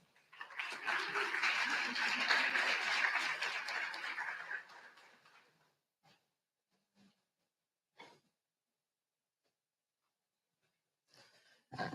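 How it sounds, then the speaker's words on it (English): An audience at a fall convocation and white coat ceremony applauds scholarship recipients, a dense burst of clapping lasting about five seconds that fades out, followed by a few faint isolated claps. "Another round of applause, please, for those scholarship recipients"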